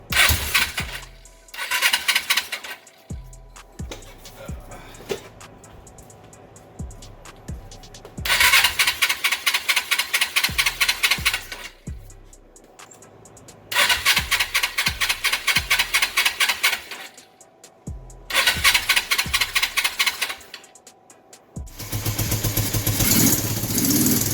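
Small gasoline engine after priming with the choke, cranked repeatedly in short loud bursts that catch and run roughly for a few seconds, then die and restart several times, close and loud with no talk.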